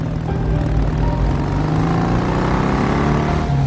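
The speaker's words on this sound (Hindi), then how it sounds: "ये गाड़ी की आवाज कैसी है, लगता है कोई आ रहा है" A car engine in the horror game Granny Chapter 2 drones steadily as the vehicle draws near, a loud, continuous low rumble with a slight rising rev that holds for the whole stretch, alone without talk.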